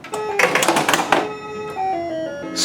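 Electronic arcade-style music from a Gottlieb Haunted House pinball machine, with bright tones and a burst of rapid chimes and clatter, followed by a simple melodic phrase.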